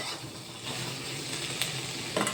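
Soya mix, banana and tomato stirred together in a hot pan give a steady, soft sizzle with scraping spoon strokes, a couple of brief louder clinks near the end, close and without talk.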